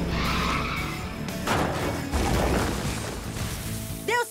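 Cartoon truck and a tree sliding and skidding on a slope, a loud continuous scraping, skidding rush under busy music and effects, ending in a quick squealing sweep.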